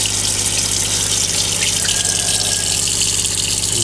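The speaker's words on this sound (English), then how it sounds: "Let the water run for like" Water runs continuously in a loud, steady rush, like a tap left open, with a low mechanical hum underneath and no voices.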